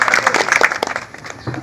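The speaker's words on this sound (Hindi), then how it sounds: "शेर के लिए ताली मार रहे हैं।" An audience claps at an iftar kit distribution gathering in Howrah, a short burst of loud, dense clapping that thins out after about a second, with voices mixed in.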